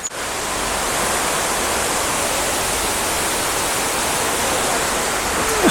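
Banyumala waterfall in Bali roars with a continuous, loud, broadband rush of falling water, steady throughout and heard alone without voices.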